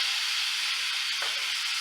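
Steady, close sizzling from pineapple frying in a hot pan, a constant bright hiss with no talking.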